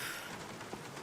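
Steady rain hisses continuously in a dark scene of The Black Mirror adventure game, a broad even wash with no voices and no distinct drops standing out.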